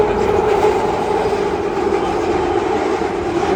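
Train at King's Cross railway station in London, a steady loud rumble of rail cars with faint clickety-clack, continuous throughout without clear speech.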